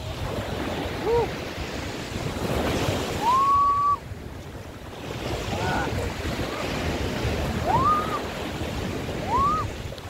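Sea waves wash steadily on a clear-water beach at Subic, Zambales, a broad rushing surf mixed with wind buffeting, while a few short whistle-like tones rise faintly over it.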